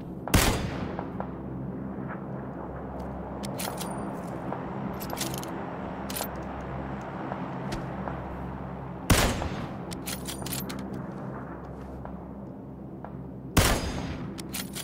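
A Kar98 bolt-action rifle fires three sharp, loud shots in PUBG, spaced several seconds apart over a steady low engine-like hum, with faint clicks and small reports in between.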